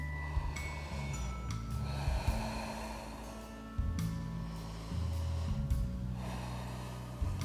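Deep yoga breathing: long, audible inhales and exhales through the nose in slow alternating cycles, close and steady, each breath stretching over a couple of seconds, with a faint hum of background music and no speech.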